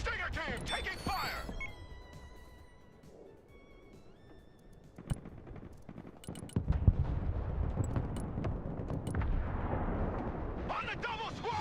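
Gunfire and heavy booms in the military video game Broken Arrow, bursts with a big impact near the middle, mixed with radio chatter and talk.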